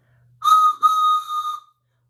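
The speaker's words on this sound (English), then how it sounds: "I even have my whistle." A toy train whistle gives a clear, close, shrill toot, split into two quick blasts with a brief dip between, against an otherwise quiet background.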